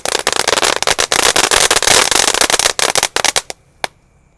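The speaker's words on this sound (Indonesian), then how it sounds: "Memang seru ya menyalakan mercon malam hari itu" Firecrackers and fireworks are set off outdoors on a Ramadan night, a loud dense run of rapid cracking bangs that thins into a few last isolated pops before falling quiet.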